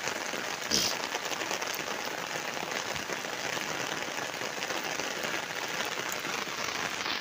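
Heavy rain from a Bay of Bengal low-pressure system pours down in a steady, loud hiss, with no pause throughout.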